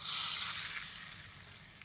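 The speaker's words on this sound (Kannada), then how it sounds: "ಇದಕ್ಕೆ ಒಗ್ಗರಣೆ ಹಾಕ್ತಿದ್ದೀನಿ." Mustard seed tempering in hot oil poured onto green tamarind pickle, giving a steady bright sizzle that starts loud and slowly fades over a couple of seconds, with no talking.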